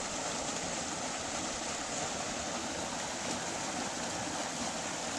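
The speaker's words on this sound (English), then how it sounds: "And over there is the short waterfall." Steady rushing water, a constant broadband splash and hiss like a small waterfall, even in level throughout with no voices.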